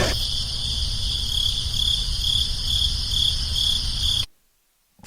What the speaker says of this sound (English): The crickets are coming back out.